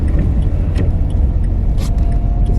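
A car rolls slowly up a driveway toward a white house, its engine rumble and tyre noise steady and close throughout, with faint crunching and a few light rattles on top.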